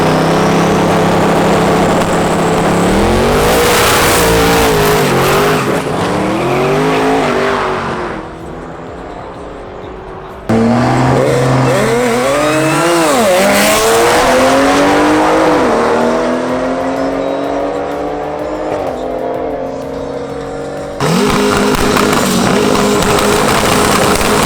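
Cars of 1500+ horsepower, among them a G90 BMW M5, drag race on a track: loud engines scream through rising and falling gear changes as they launch and pass, in several successive runs with brief lulls between them.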